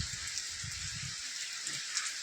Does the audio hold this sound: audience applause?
no